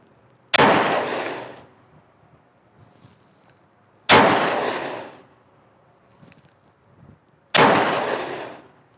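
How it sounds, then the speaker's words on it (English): Three loud, sharp pistol shots fired at an outdoor shooting range, each a sudden crack with a ringing decay, spaced roughly three to four seconds apart with quiet in between. "So let's go ahead and just do 3 shots real quick."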